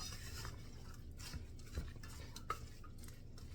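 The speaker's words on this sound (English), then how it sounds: "we're going to mix all of this up good now" Ground meat and vegetables for Cajun smoked stuffed peppers being stirred together in an old pot, soft faint scraping and squishing with a few light utensil clicks, no talking.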